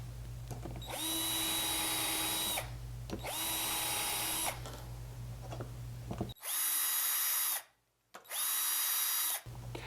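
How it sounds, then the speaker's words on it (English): A power drill pre-drills screw holes in a cabinet door for hinge mounting, whining in four separate bursts of roughly two seconds each, each starting and stopping sharply, close by with no talking. "Use your Vicks bit and pre-drill your screw holes."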